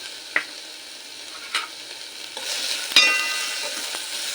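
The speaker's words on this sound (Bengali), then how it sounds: "এই লবণটা ভালো করে আলু গাজর টমেটোর সাথে মিশিয়ে নেব" Salt being stirred into potatoes, carrots and tomatoes frying in a pan for a sabudana dish, with a steady soft sizzle and a few distinct spoon scrapes and clinks, close and fairly quiet.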